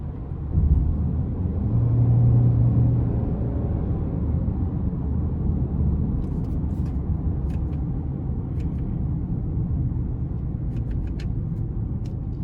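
A 2022 Hyundai Santa Fe SEL with the 2.5L engine cruising on the road in comfort mode, giving a steady low engine and road rumble with tire and wind noise throughout and a few faint clicks near the end.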